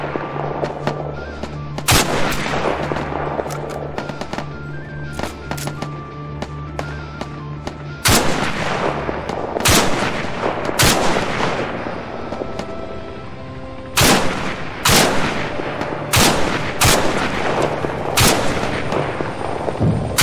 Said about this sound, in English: Under fire! Machine gun.